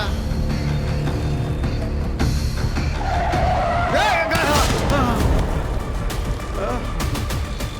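A car swerving erratically with tires skidding and squealing across several seconds, loud and close, while people in the car talk over it.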